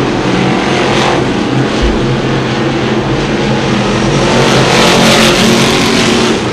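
Crate Sportsman Modified race cars racing around a dirt oval at a full event, a loud continuous engine roar with rising and falling revs as the pack passes, close and dense throughout.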